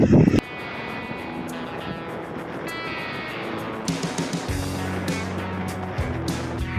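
A walk-behind tractor plows a rice field in open paddy country near Phu Pha Man National Park in Thailand, its engine a steady mid-distance drone with gusts of wind buffeting the microphone.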